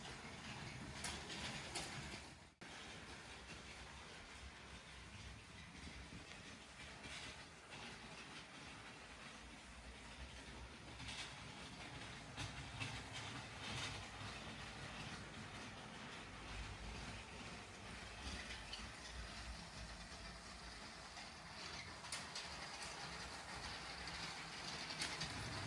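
LEGO toy trains run on a layout with a steady, quiet rolling clatter and faint continuous hiss, interrupted by one sharp click early on, with no talking.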